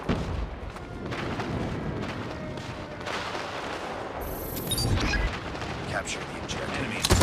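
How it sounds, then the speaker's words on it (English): Rumbling blasts and crackling bursts from an airstrike in Call of Duty Mobile Hardpoint mode, dense layered booms with a sharp metallic hiss near the end, continuous and fairly loud. "Friendly airstrike incoming."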